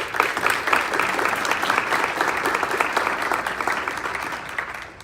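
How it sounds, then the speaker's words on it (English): A big round of applause from an audience for social workers, sustained dense clapping that holds steady and fades slightly near the end. "If we give them a big round of applause"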